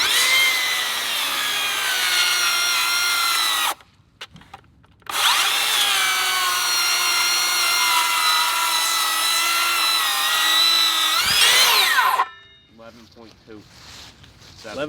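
A Makita cordless circular saw cuts through wood in two long passes, each a loud, high, steady whine. A brief gap separates the passes. After the second cut the saw spins down, ending in a few light clicks and rattles.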